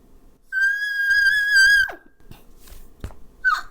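Singer producing a high whistle-register note using the whiny puppy technique, a thin wavering tone held about a second and a half before sliding down, followed by a brief faint squeak, with no other voice.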